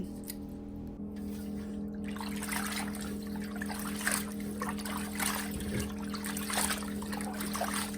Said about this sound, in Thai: วันนี้เฮาก็สีเอามาล้าง เอามาทอกใส่น้ำเย็น